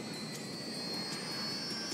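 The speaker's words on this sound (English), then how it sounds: "Plane's coming down." Jet airliner flying down in GTA 5, a steady high whining engine roar with a sustained tonal whistle that stays loud and even with no talk.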